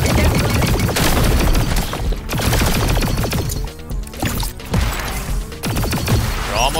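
Gunfire during a firefight in the shooter game High on Life, with rapid bursts of shots and sharp impacts piling up loud and close over several seconds.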